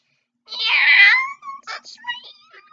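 A voice imitates a cat girl's meow in an anime bullet-hell game: one drawn-out, whiny meow followed by a few shorter chirpy mews, loud and close with no background.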